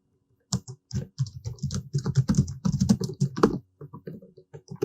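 Name typed on a computer keyboard, a close rapid run of plastic key clicks in uneven bursts with short pauses between, no voices present.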